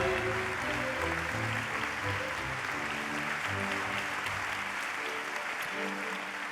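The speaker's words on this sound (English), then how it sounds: "a warm applause for the first 6 winners in category Conservation" Audience applause fills a European heritage awards ceremony in Madrid, honouring conservation category winners; steady, dense clapping from a large hall crowd with no talk, continuing evenly throughout.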